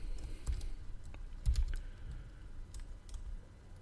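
Computer keyboard typing code for a tic tac toe program, a run of close, quick key clicks in uneven bursts with a few heavier thumps.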